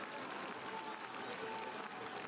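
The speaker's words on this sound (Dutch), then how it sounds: "Het applaus is terecht." Stadium crowd applauding after Ajax score a headed goal against Watford, a steady broadband wash of distant clapping from the stands sustained throughout without pause.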